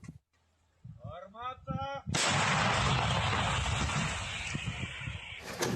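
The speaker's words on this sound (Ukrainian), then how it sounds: "А це гармаші в роботі працюють по ворожій піхоті." A voice speaks briefly, then a single heavy artillery gun blast booms, fired at enemy infantry on the Bakhmut front, with a long rumbling roar that lingers for seconds before a second report.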